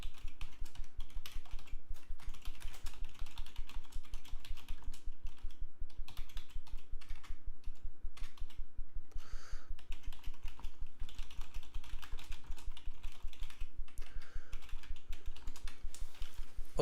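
Steady typing on a computer keyboard during a live IELTS writing class, a long run of close, rapid key clicks with a few brief pauses and no talking.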